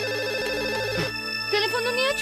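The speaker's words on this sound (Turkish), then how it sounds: "Telefon çalıyor." Telephone ringing with a loud, repeating electronic ringtone melody in a Turkish TV drama scene, up close, while voices talk over it.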